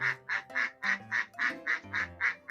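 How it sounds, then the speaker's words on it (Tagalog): Domestic ducks quack in a quick, steady series of about ten loud, close calls, evenly spaced with no pauses between them. "Ito yung mga itik."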